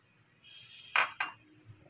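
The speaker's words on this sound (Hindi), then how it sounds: "अब ये जो हमने पेस्ट बना के रखी थी धनिया पुदीना हरी मिर्ची की इसमें ये दही डालेंगे" Yogurt spooned into a coriander, mint and green chilli paste for potato raita: two close clinks of a utensil against a bowl, loud and brief, over a quiet kitchen background.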